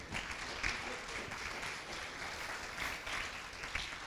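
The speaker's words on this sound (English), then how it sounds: "Let's give them one more round of applause." Faint, distant audience applause for panelists at a rural Oregon conference, a continuous wash of clapping heard from far back in a room.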